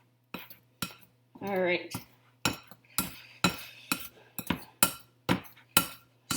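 Butter being cut into flour in a bowl for scones, heard as a series of sharp, regular metallic clinks and taps of a utensil against the bowl, close up, with a short spoken phrase near the start.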